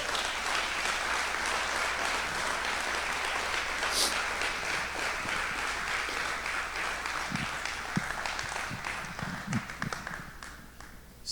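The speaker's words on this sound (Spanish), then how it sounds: "Aleluya, un aplauso al Señor." Sustained applause from a church congregation praising the Lord, dense and steady throughout, with a few faint voices and shouts surfacing near the end.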